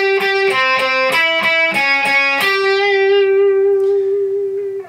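A distorted electric guitar plays an alternate-picking lick at slow speed. Quick, evenly picked notes lead into a single long sustained note that slowly fades, with no other sound.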